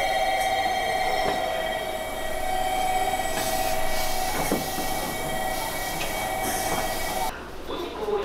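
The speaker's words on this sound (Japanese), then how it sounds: "小倉駅からは特急ソニック号自由席に乗って折尾駅へ向かいます。" Inside a Sonic limited express train running from Kokura to Orio, a steady loud rumble of wheels and carriage noise with a sustained high whine, continuing throughout before a slight change near the end.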